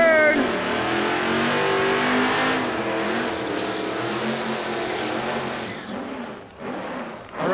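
A drag racing car, at a muscle class event at Lapeer International Dragway featuring a 1977 Ford Mustang II and an 83 Olds Cutlass, roars loud and steady in a sustained revving burnout that fades near the end.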